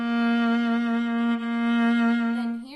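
A viola sustains a single bowed note in two long, even strokes with a slight dip between them, rich in overtones and close, from a string tutorial; no talking.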